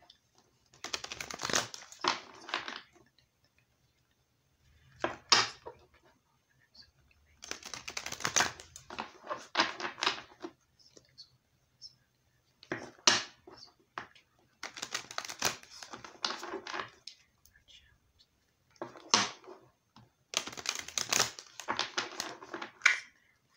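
Deck of tarot cards being shuffled, repeated bursts of crisp riffling and flapping at close range, each lasting a second or two and separated by short silent pauses.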